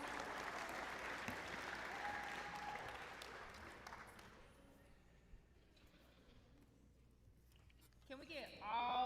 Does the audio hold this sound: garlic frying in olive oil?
no